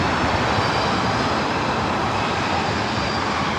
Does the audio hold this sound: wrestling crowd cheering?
no